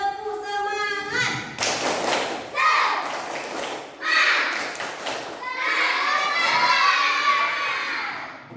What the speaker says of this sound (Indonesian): Coba ibu tes dulu semangatnya. Tepuk semangat.